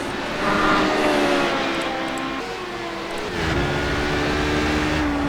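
Race car engine at sustained high revs on a long back straight in iRacing, an HPD prototype at Le Mans, droning loud and steady with a brief dip and recovery midway, no voices.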